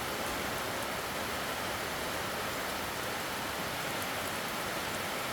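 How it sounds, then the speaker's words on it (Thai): Heavy rain pours steadily at a rural Thai home, a dense, constant hiss of water hitting surfaces with no pauses, close and loud, with no talk over it. "ไม่ได้ทิ้งเลยอ่าฝนก็ตกนะฮะ"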